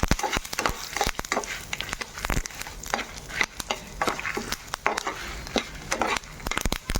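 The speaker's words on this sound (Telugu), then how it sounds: "ఇప్పుడు 2 రెబ్బలు కరివేపాకు వేసుకుందామండి." Curry leaves fry in hot oil while making a coconut spice powder, giving an uneven crackle with frequent sharp clicks and scraping stirs, fairly close and with no talking.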